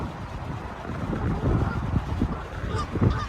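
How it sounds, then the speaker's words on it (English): Canada geese honk beside a canal, with a Muscovy duck nearby, their repeated calls blending into a steady flock chorus over wind buffeting the microphone, with no talking. "Couple of Canadian geese seem to have made friends with a Muscovy duck."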